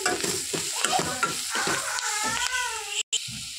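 Ponnaganti greens being stirred with salt in a cooking pan, with scraping spoon strokes over a soft sizzle; a brief mewing sound rises near the end, then a short gap of silence.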